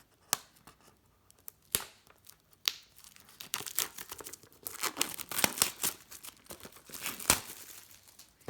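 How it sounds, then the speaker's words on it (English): A plastic-sealed TicWatch Pro 3 smartwatch box being torn open: close, sharp bursts of tearing and crinkling wrap, sparse at first and then denser and more continuous, with no talking. "It is sealed in plastic. So let's go ahead and get it open."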